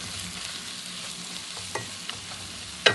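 Garlic paste sizzles steadily in a pan for mutton liver fry, with scraping stir strokes breaking through now and then and a sharper utensil clink near the end; no one speaks.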